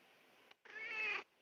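A house cat gives a single drawn-out meow, quiet and slightly distant, preceded by a faint click, with near silence around it.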